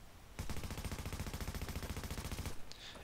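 Rapid automatic fire from an LW M4 rifle in The Division video game, a fast even burst of about two seconds, loud and close, cutting off sharply into quiet.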